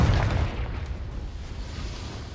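A Confringo spell explosion in the video game Hogwarts Legacy, a single deep boom at the start that decays into a low rumbling tail, moderately loud, with no voices.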